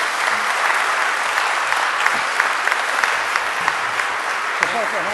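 A symposium audience applauds two speakers warmly, sustained clapping at steady volume that fills the whole stretch, with a few sharper claps standing out.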